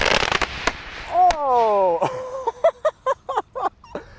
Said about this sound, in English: the firecrackers are going,